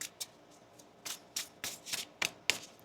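Tarot cards being shuffled by hand, a close series of soft riffling, rubbing bursts in an uneven rhythm, quiet and with no speech over them.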